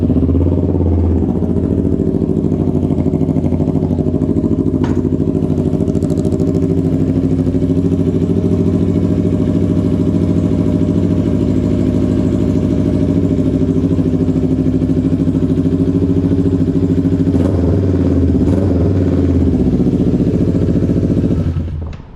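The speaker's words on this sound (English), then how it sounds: "Go ahead and start the motor one more time," A Kawasaki Ninja 400 race bike idles after an oil change, its engine rumbling loud and steady for a long stretch with light mechanical clatter and no talking.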